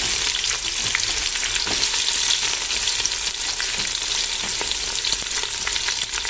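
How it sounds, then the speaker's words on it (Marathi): Two large sliced onions frying in oil with whole spices for a one-kilo chicken biryani, a loud dense crackling sizzle with frequent sharp pops, steady and close throughout with no talk. "आपल्याला छान असं हे तेलामध्ये भाजून घ्यायचं आहे चांगला गुलाबी कलर येईपर्यंत भाजून घ्यायचं आहे"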